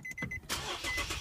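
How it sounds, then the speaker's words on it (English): A car engine cranks with a few short starter whirs, then catches and roars into a loud, rough idle after being jump-started from another battery, heard up close. "And that is how you jumpstart a car, baby!"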